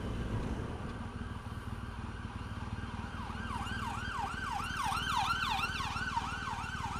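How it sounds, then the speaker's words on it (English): An ambulance siren wails in repeated rising and falling sweeps, growing louder as it nears, over low traffic rumble. "there's an ambulance"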